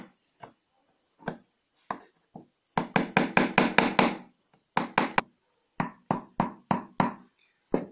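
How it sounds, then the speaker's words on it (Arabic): A hammer strikes a nail into wood in a kitchen, sharp close knocks coming singly at first, then in a quick run of steady blows, then in spaced pairs. "هجيب بقى معانا المسمار وابتدي ادقدق لحد ما المسمار يخش كله"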